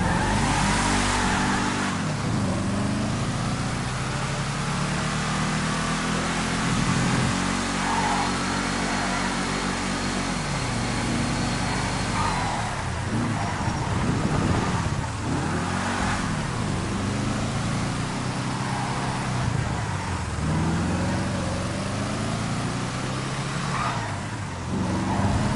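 A Humper Coupe car drives and accelerates with a loud, continuous engine note that rises and falls in pitch through repeated revving sweeps, heard alone without talk.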